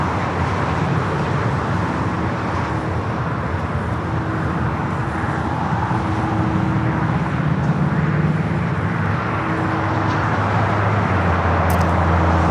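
A Japan Airlines Airbus A350 jet on final approach at LAX makes a steady, broad roar that holds for the whole stretch, with a faint low engine drone and rising tones beneath it.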